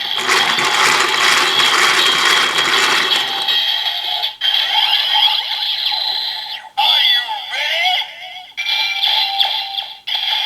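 Mechanical ratcheting and clicking from a Kamen Rider Build DX Build Driver toy belt as its handle is cranked, loud and close, with a burst of busy electronic sound at the start, then repeated short gear-clicking runs separated by brief pauses.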